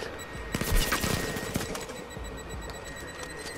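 Rapid bursts of gunfire ring out during a firefight in the video game Blood & Truth, with sharp shots clustered early and a dense, echoing background of combat noise.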